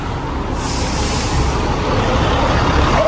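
Heavy road traffic with trucks and buses on a congested road in Silang, Cavite, a steady loud engine rumble and roar with a brief air-brake hiss, heard up close.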